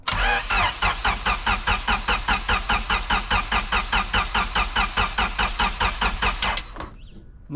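A turbocharged 1999 Honda Civic engine cranks over and over in a fast, steady rhythm for several seconds without catching, then stops; heard close and loud.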